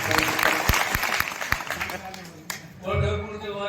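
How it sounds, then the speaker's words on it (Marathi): An audience at a devotional discourse applauds for visiting pilgrims, a burst of clapping with a few sharp loud claps mixed with voices, fading before a speaker resumes talking. "वारकरी आलेले त्याच्याबद्दल एक टाळी वाजवा."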